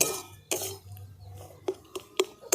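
Besan barfi mixture being stirred in a pan after milk is added, with a few sharp clinks of a spoon against the pan and soft scraping between them, close and fairly quiet.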